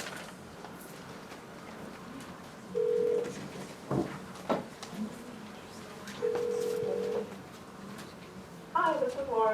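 Phone line tones during a hearing on raising the Oregon minimum wage as a remote caller is connected: two sustained dial beeps, a few clicks and a short burst of rapid tones near the end, with faint room sound between.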